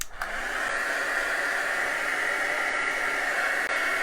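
A heat tool blows hot air to dry paint on a mixed media book cover, a loud, steady close-up whoosh that starts abruptly and holds constant throughout with no talking.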